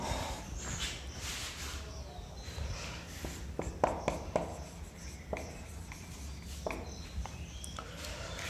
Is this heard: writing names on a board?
yes